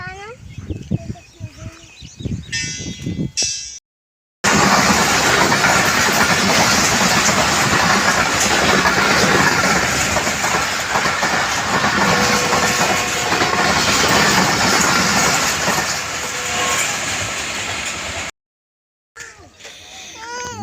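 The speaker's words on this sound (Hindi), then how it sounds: "12 डाउन हज़ारा एक्सप्रेस मुबारकपुर रेलवे स्टेशन पर आ रही है" Hazara Express 12 Down train arriving at Mubarakpur railway station, a loud, steady rumble and clatter of passing coaches lasting most of the stretch, with voices and station sounds before and after.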